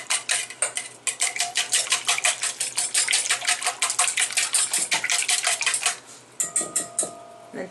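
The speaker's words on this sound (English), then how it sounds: "We're going to whisk this together." Rapid whisking of an apple cider vinegar and rice flour mixture for gluten-free tortillas or naan, a dense run of quick metallic clicks against the bowl, close and loud, pausing briefly before starting again.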